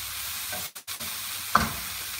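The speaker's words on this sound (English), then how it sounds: "sauteing these all the vegetables in very little oil" Bitter gourd, potatoes and onion sauté in a little oil, a close sizzling hiss that briefly drops out, then returns with a quick clatter of stirring.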